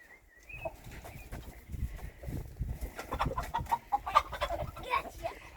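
Chickens cluck in short, irregular bursts close by, growing busier and more agitated as the birds are caught and moved, with a high squawk now and then.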